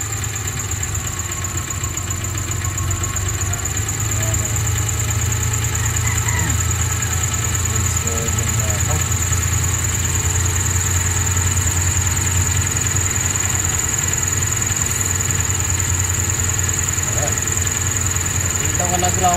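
A DA52T's engine idling steadily with a low, even hum and a faint high whine, while a person talks over it intermittently.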